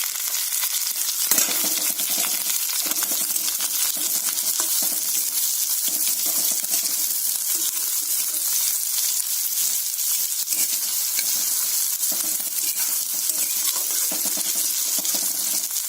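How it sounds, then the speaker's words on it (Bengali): Sliced garlic sizzles steadily and loudly in hot oil for a Bengali Malabar spinach seed bhaji, with a dense crackling fry throughout and a brief clink of a utensil near the start. "এরপরে দেব 8 থেকে 10টা রসুন আমি এই লম্বা লম্বা স্লাইস করে নিয়েছি।"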